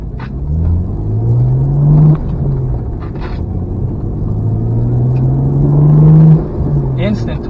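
A 2013 BMW 135i with a six-speed manual gearbox accelerates on the road, heard from inside with the windows up: a steady engine rumble rising in pitch through two strong pulls, each easing off before the next.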